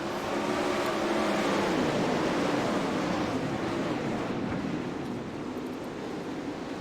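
A pack of 18 sim race cars in iRacing accelerates at the green flag on the Kokomo oval, a dense, steady engine roar blending into a continuous wash of noise.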